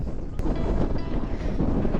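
Strong wind roars across the microphone in a continuous, loud buffeting rush, with no talking.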